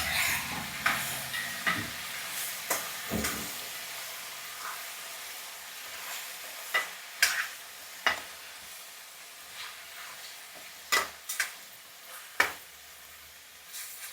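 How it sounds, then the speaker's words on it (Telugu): Sesame seed cake (telagapindi) with drumstick leaves frying and being stirred in a little oil, giving a steady soft sizzle broken by sharp scraping clicks of a spoon against the pan, close by with no talking. "ఇది కొంచెం నూనెలో ఇలా వేయించాలన్నమాట"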